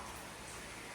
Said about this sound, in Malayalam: ഇവിടെ കോട്ടിയാടിലും മഴ പെയ്തുകൊണ്ടിരിക്കുകയാണ്.